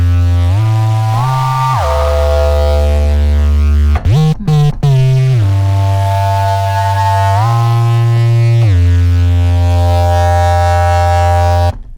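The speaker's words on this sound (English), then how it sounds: "Here's something called howler bass." Howler bass preset on an Arturia virtual synth, combining an analog source, three oscillators and a sample on a modal engine: loud, sustained bass tones shifting between held pitches, with a few sharp percussive hits in the middle.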